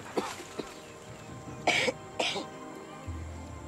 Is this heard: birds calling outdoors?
no